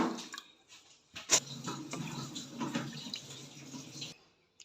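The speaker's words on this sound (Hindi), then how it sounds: "अब हम चाशनी के लिए चीनी लेंगे और इसमें हम यही वाले 2 कप पानी" Water runs and splashes steadily into a cooking pan holding sugar for syrup, a continuous pouring close by for about three seconds before it stops, with no talk.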